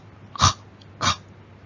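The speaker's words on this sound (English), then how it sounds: "Coughing in spell of 3." A person gives two short, breathy coughs about half a second apart, close and moderately loud in a quiet room.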